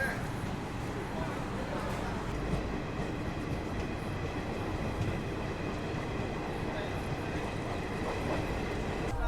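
A Garib Rath express train from Chennai to Delhi runs at speed without stopping after Ongole, giving a steady, dense rumble of wheels and carriage noise throughout.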